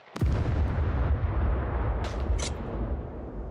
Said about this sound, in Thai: เสียงอะไรอ่ะปืนอะไรอ่ะ